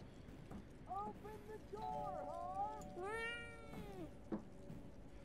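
Several cat meows in the video game Fears to Fathom: Woodbury Getaway, rising and falling, over a low steady background hum; a few calls follow one another, fairly close and moderately loud.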